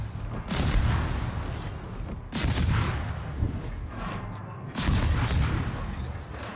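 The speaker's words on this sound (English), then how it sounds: "And get some gunfire on this guy." Heavy booming naval gunfire in a World of Warships-style video game, three bursts, each a loud rolling blast with a long rumbling tail, close and sustained.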